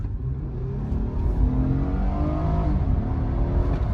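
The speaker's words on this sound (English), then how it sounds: "Let's get on the power here if no one cuts me off" A 2007 Honda Accord EX-L V6 accelerating hard on the road, its engine note rising steadily and loud from inside the cabin, with no speech.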